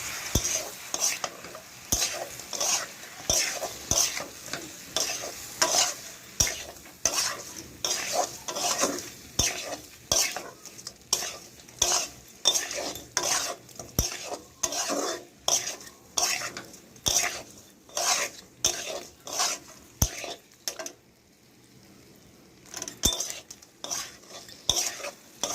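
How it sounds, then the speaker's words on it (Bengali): Fried hilsa fish gets stirred with spices in a pan, with a spoon scraping and knocking against the metal in a steady repeated rhythm over a soft continuous sizzle, close up, pausing briefly near the end. "মশলার সঙ্গে ভালো করে নেড়ে"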